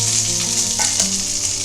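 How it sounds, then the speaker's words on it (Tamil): Thinly sliced bitter gourd fries in oil with a loud, close, steady sizzle and a couple of brief stirring scrapes over a short stretch. "பாவக்காய் இந்த எண்ணெயில் ஒரு 2 நிமிஷம் வதங்கட்டும்."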